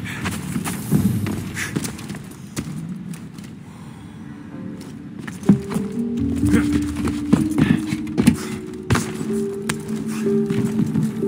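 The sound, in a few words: horse neighing and hooves, from video game Assassin's Creed Odyssey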